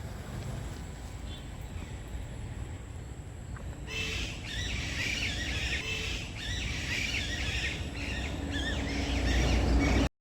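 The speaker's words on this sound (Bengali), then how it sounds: "পাখির ডাকগুলো শুনতে এত ভালো লাগছিল" Birds call along an embankment road beside the Torsa river, with bright chirps that start partway through over a soft, continuous low outdoor hum and grow busier toward the end.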